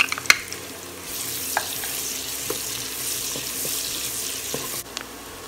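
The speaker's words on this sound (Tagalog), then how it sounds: "una kong isusute ang ating garlic. Then, ang ating onion." Garlic and onion sautéing in melted butter in a pan, a steady sizzle with a few sharp clacks of a utensil stirring, close and clear, no speech.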